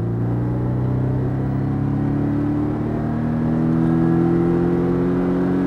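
A Porsche Cayman accelerating hard on a racing circuit, its engine droning loud and steady with the pitch rising gradually throughout, heard from inside the car.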